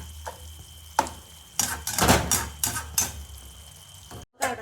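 Soya roast being stirred in a pan after water is added, a soft sizzle under scraping strokes and clinks of a spoon against the pan, with several louder scrapes in the middle and a brief pause near the end.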